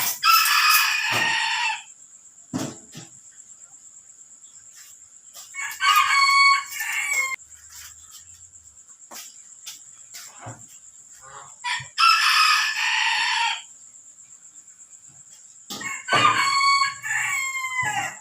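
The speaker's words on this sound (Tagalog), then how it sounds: "May alagang manok yung may-ari ng bahay." Domestic rooster kept at a house crows repeatedly, with several loud, drawn-out calls at intervals and soft clucking between them, alone with no talk, over a steady high electrical whine.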